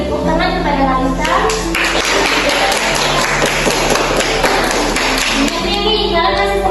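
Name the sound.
applause for a student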